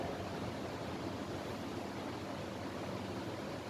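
A gas stove burner hisses steadily once lit, a quiet even rushing noise with no breaks, nearby and alone.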